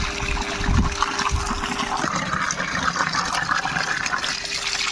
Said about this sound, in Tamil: நல்லா கறியை கழுவிக்கிறோம்.